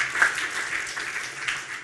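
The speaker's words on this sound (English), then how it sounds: "you should be giving yourselves a round of applause for your participation today" An audience applauds at a press conference, with steady, dense clapping that holds at an even level throughout and no talk over it.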